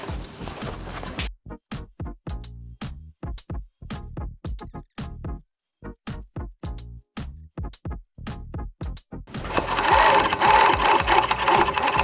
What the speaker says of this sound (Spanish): y también vamos a filetear nuestro dobladillo.